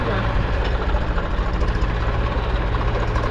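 An Eicher tractor engine strains as it pulls free of thick mud, a loud, steady low rumble throughout, with a voice faintly mixed in.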